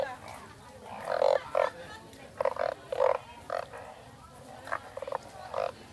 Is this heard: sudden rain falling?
no